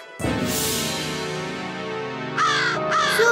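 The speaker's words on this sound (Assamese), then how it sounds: "ককাইদেউ সেয়া কাউৰী আহিছে" Harsh crow caws from an animated Assamese cartoon series ring out loud and close, with a long call followed by two shorter, sharper caws near the end.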